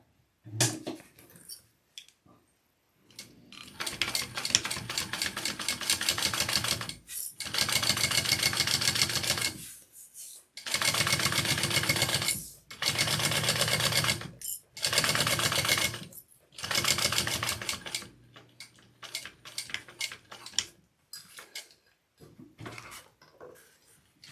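Sewing machine top-stitching a bag, running in several loud bursts of rapid needle chatter separated by short pauses, close up with no talking.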